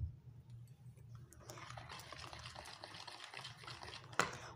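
Milk, 200 ml, is poured into cornmeal cake batter in a mixing bowl, a soft continuous liquid gurgle and splash heard close up, ending with a brief clink.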